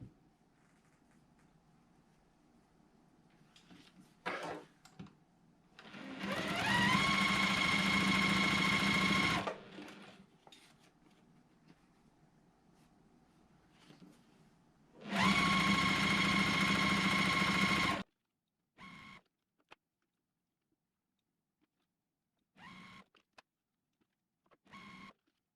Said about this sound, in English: I'm just going to go ahead and sew it together like a 9 patch